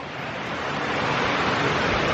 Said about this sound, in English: I'm at the top of the waterfall.